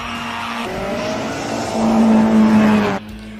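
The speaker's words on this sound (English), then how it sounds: "Carl Brink takes us off in an Austin Cooper S with absolute commitment." A small Austin Cooper S's engine screams loudly at high revs as it races past on a hillclimb, pitch climbing through a gear, then cutting off abruptly.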